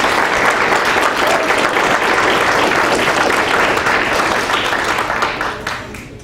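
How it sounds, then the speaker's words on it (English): Loud, dense audience applause for a scout named Michael at an Arrow of Light ceremony, continuous clapping from a crowd that holds steady for several seconds before tapering off at the end. "Let's give Michael a round of applause."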